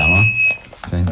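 A mobile phone ringtone sounds as a sustained electronic tone in a radio studio, partly under a man's speech that cuts in over it.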